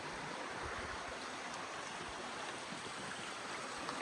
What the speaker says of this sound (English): This is Elam Creek,